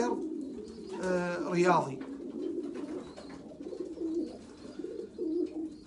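Pigeons coo in low, repeated throaty phrases that continue steadily at a moderate distance, with a voice briefly speaking over the birds early on.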